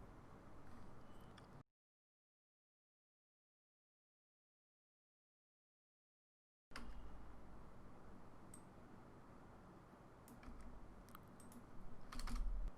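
Computer keyboard keys are typed in quick, soft clicks while writing Android code, faint and close, broken by a stretch of complete silence before the tapping resumes, with no talking.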